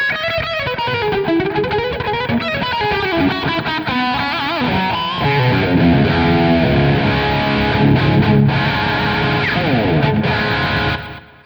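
Electric guitar played through a Valeton GP-5 multi-effects preset with added distortion, loud driven chords and single-note runs sustained over several seconds, no voice.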